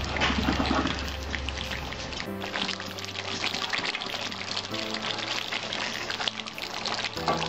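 Freshly boiled water poured into a pot of Bengali-style dahi chicken, a steady splashing pour heard close and continuous throughout, with low hum of a gas burner underneath.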